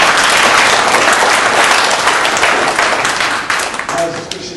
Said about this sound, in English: give Christian a clap for coming on the panel